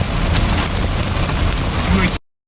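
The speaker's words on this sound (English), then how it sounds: "This hail I can handle." Small hailstones pelt the ground and surfaces in a dense, steady clatter during a severe Wisconsin storm, loud and close, with no voices, stopping abruptly near the end.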